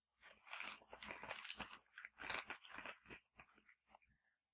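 Tissue paper crinkling and rustling during an ASMR unboxing of a Sephora cosmetics haul, close and crisp, with dense bursts of crackling that thin out into softer, sparser crinkles toward the end, no talking.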